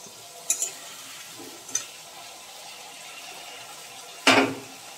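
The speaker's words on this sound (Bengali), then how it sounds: "আলু ভাজা হচ্ছে" Potatoes frying in a pan during home cooking give a low, steady sizzle, broken by a few soft stirring clatters and one sharper scrape near the end.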